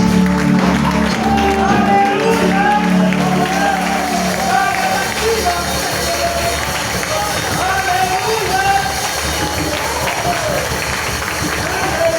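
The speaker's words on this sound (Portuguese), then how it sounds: "Aplauda o Senhor, meu forte." A church congregation claps along during a worship service, steady massed clapping with a loud crowd texture filling the space while a voice and music carry on over it throughout.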